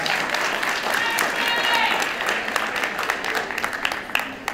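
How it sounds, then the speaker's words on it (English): Audience round of applause at a community morning event, fairly faint and thinning into scattered individual claps toward the end, with voices underneath. "Give him a round of applause."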